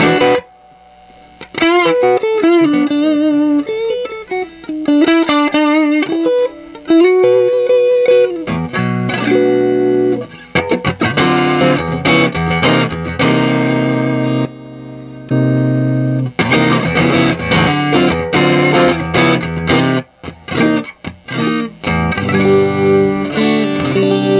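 Heavily distorted electric guitar playing chords and riffs through a boosted Honeybee distortion pedal, loud and sustained with thick saturated crunch, no voices.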